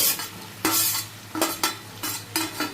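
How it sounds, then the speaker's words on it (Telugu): Sliced tomatoes drop into a sizzling curry pan, a run of sharp hissing bursts and scraping spoon strokes over a steady background fry, heard up close without talk. "ఇప్పుడు మనము టొమాటోస్ నేను వేసుకుంటున్నాను"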